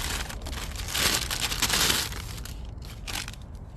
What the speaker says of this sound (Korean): 그나마 좀 작아 보이는 봉지를 제가 한번 벗겨 보겠습니다